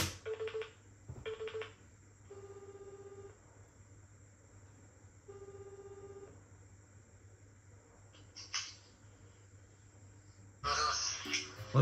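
A phone call is placed to check on a younger brother who is late returning from a convenience store: a quick burst of touch-tone dialing, then several steady ringback tones repeating alone at moderate level, and a voice answers at the end.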